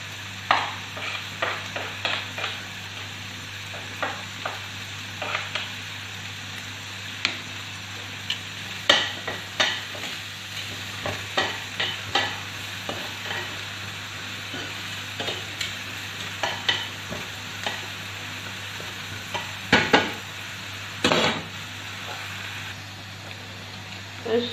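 Onions frying in a pan for pasta, a steady sizzle with frequent scraping and tapping of a utensil stirring against the pan, close and fairly loud, with brief speech at times.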